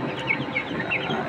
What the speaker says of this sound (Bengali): আর টাইগার মুরগিগুলোকে এখন সে পানি দিয়ে দিছি, সাথে খাবার দিয়ে দিছি